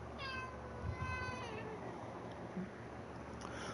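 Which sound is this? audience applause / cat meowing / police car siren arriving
cat meowing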